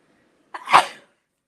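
A single short, sharp sneeze bursts out close by, then stops abruptly, leaving silence.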